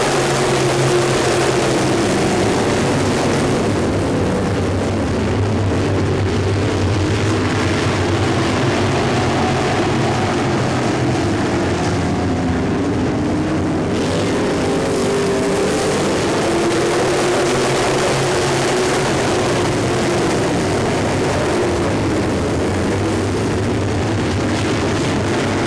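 Race cars lapping a track after the green flag with ten laps to go make a continuous, dense engine roar that is loud and steady throughout, with no clear breaks between passes.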